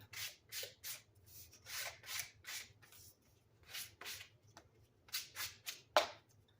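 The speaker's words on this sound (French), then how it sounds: "On va bien poncer." Paper edges sanded by hand for a scrapbook album page, heard as a series of short, close, rhythmic scratchy rubbing strokes, with brief pauses between bursts.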